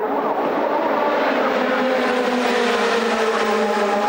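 A Maserati GT race car circling Monza during a 2007 International GT Open race, a loud, sustained engine roar with a slowly shifting pitch, as though passing fairly close, ending abruptly.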